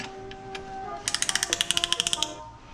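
Rapid, evenly spaced ratchet clicks as a wrench turns a Miata engine's crankshaft during piston installation, about a dozen crisp clicks in a quick burst, close up after a couple of faint taps.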